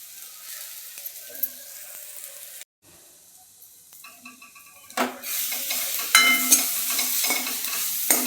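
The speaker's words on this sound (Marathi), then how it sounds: "खोबरं लसूणचं वाटण टाकायचं" Coconut and garlic paste for Maharashtrian buttermilk kadhi hits a hot pan with a loud, steady sizzle and stirring scrapes, starting after a quiet pause and building to continuous frying hiss.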